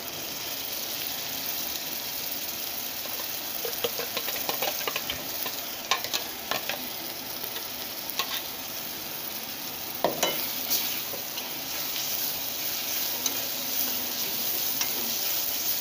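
Ground wet masala paste fries in oil in a pan for a whole masoor curry, a dense continuous sizzle with scattered spatula scrapes and clicks throughout.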